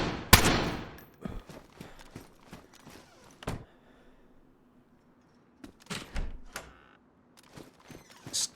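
Suppressed gunshots from a weapon in the survival video game DayZ, several short muffled cracks spread across the clip, one loud near burst early on and a pair of quieter shots later, with quiet gaps between.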